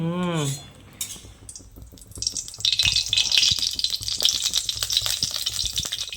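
Elephant foot yam and potato with panch phoron spices crackle and sizzle in hot oil, a brief hum giving way to steady frying with clinks of a utensil against the pan, no talking.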